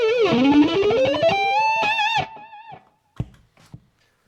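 Electric guitar pushed through a DOD overdrive pedal into a Marshall amp, playing a fast gliding lead line with bends and vibrato, then a held note that cuts off, followed by a couple of soft muted clicks.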